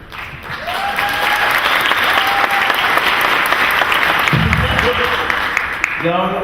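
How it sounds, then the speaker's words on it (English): A convention audience in a ballroom at a True Blood panel at Dragon Con bursts into sustained, loud applause with cheering voices mixed in, tapering near the end as a voice speaks over it. "just heard the applause of people in a ballroom"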